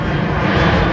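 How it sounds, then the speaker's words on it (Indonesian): Airliner on descent toward New Orleans airport, heard from the shore of Lake Pontchartrain as a steady, loud roar of engine noise overhead for a moment. "Ini pesawat mau turun di bandara New Orleans ini."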